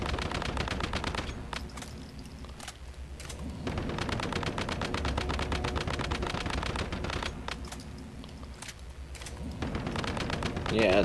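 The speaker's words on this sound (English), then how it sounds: "I'm just gonna shoot him from afar" Rapid automatic gunfire in the survival shooter Once Human, long sustained bursts with short pauses, shooting an enemy from a distance, loud and continuous with faint talk underneath.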